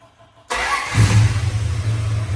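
An old Dodge Polara car engine cranks and starts loudly after half a second of quiet, then settles into a steady low rumbling idle close by.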